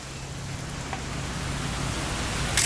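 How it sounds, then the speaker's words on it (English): Steady hiss of rain falling continuously in the video game What Remains of Edith Finch, with a low hum underneath and a brief brighter splash near the end. "It's gonna rain the whole weekend, isn't it?"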